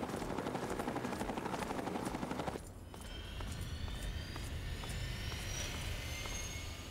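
A helicopter in Fallout 3 drones loudly with fast, regular rotor chopping, then the sound abruptly shifts partway through to a slightly quieter, continued whine and thrum with no talk.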